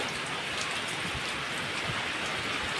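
Heavy rain pours steadily with wind in a thick, even wash of patter, fairly quiet in level but continuous, with no talking.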